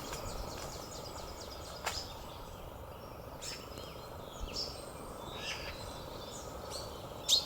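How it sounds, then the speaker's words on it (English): Birds call sparsely around a woodland pond: a few short, sharp chirps and tweets ring out at intervals over a quiet, faintly hissing outdoor background. "Hear the birds."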